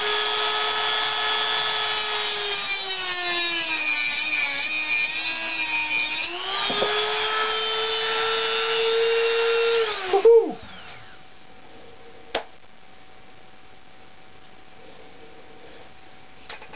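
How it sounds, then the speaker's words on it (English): A cutoff wheel cuts through steel knife blade material with a loud, close, sustained whine that shifts in pitch as it bites, then stops abruptly. A couple of faint clicks follow in the quiet. "take a cutoff wheel and see if I can't take most of it off without just having to grind it all down"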